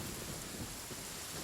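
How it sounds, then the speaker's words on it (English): Steady rain pours down in the video game Genshin Impact, a dense continuous hiss with a low rumble like distant thunder underneath, no voices. "It's raining?"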